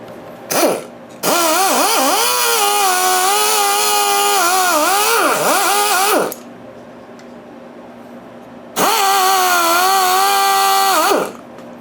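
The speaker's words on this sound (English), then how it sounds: "Just a little crud and rust. Let me wire brush that and then we'll come back." A power wire brush scours crud and rust off a part from a Briggs & Stratton Model Y engine, running loud and close in two long bursts, each whining up and dipping as it bites the metal, with a brief start in between.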